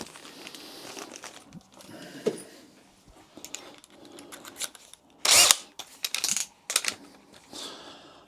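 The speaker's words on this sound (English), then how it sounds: "And here we go with the drill." A power drill bores into a wall to mount a shelf with a light, firing in a few short, loud bursts toward the end after quieter handling and rustling noises.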